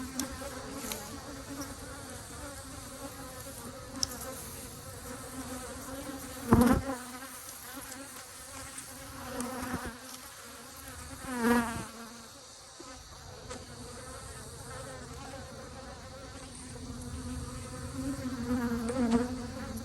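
Honey bees swarm around an apiary, a continuous close buzzing drone with individual bees swelling past the microphone at intervals, no voices.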